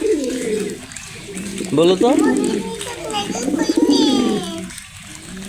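Pet pigeons kept on a Bangladeshi pigeon-rearing setup coo and scuffle nearby, low throaty calls rising and falling in bursts while a child and an adult talk over them.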